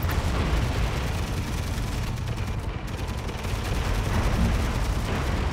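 Dense, continuous enemy gunfire and explosions from the video game Tom Clancy's EndWar, a steady loud barrage of overlapping shots with no pauses across the whole stretch.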